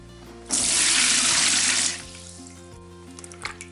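A sudden gush of whey draining from cheese curds for about a second and a half, loud and splashy, then cutting off, leaving low machine hum and small clanks.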